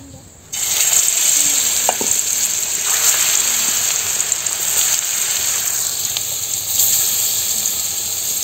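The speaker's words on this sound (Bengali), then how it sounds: "তেলটা গরম হয়েছে, মাছটি বাজ জ্বালতাছি" Fish frying in hot oil in a village kitchen, a loud continuous sizzle and crackle starting abruptly after a brief quiet moment, with faint scattered clinks.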